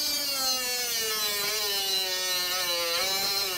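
A Ryobi 3-inch cut-off saw cuts through metal, a high-pitched motor whine laid over a harsh grinding hiss that holds steady, with the pitch dipping slightly as the blade bites.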